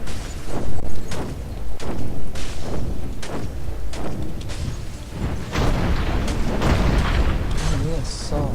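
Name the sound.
cannon fire in a video game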